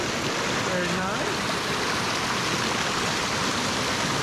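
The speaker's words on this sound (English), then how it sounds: "Looks like it might be a good waterfall right there." Rushing water from a stream and nearby waterfall along a forested hiking trail at Green Mountain Nature Preserve, Alum Hollow, a steady loud broadband wash filling the whole stretch, with a faint voice briefly audible early on.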